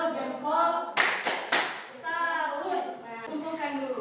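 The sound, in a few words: children clapping in class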